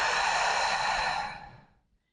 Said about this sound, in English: and out through your mouth like you're blowing out a birthday candle.